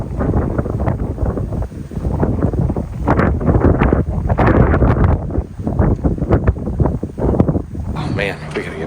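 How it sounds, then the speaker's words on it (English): Cold wind gusts across an open Nebraska field, buffeting the microphone in loud, uneven roaring bursts that swell and drop over several seconds. "I'm gonna show you the wind here for a second."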